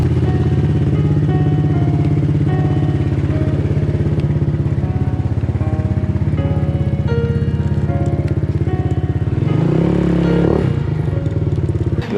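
A steady, loud motorcycle engine drone with a revving rumble throughout, shifting pitch near the end as it changes speed.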